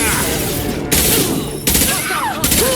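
Rapid bursts of gunfire in the Mass Effect 2 video game crackle loudly in repeated volleys, with sharp onsets and whooshing sci-fi effects between them, and no talking over them.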